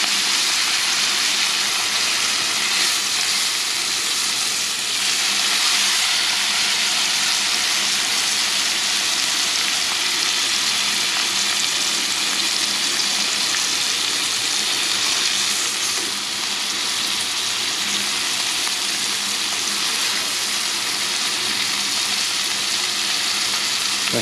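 Steaks searing in a hot pan after sous vide cooking give off a steady, loud, close sizzle that holds evenly throughout, with no talking.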